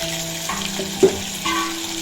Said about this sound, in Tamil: பெரிய வெங்காயமும் ஒரே ஒரு பச்சை மிளகாய் எடுத்து வச்சுருக்கேன், அதை போட்டுக்கலாம்.